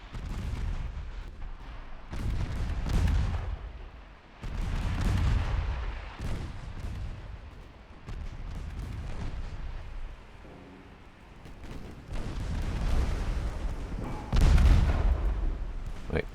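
Heavy naval guns firing high-explosive shells in a dreadnought-era warship battle game, booming in repeated deep blasts every couple of seconds with rumbling tails, loud and close, alone without talk.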